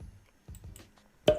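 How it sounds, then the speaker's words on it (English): A single crisp click of a computer mouse near the end, loud and close, preceded by quieter soft handling noises and faint rustle; no speech. "let's go ahead and click on that"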